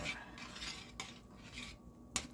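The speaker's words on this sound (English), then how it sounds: "let's give this a stir" A spoon stirring vegan broccoli cheese soup with nutritional yeast and garlic in a pot, soft swishing strokes punctuated by a few sharp clinks against the rim, close but quiet.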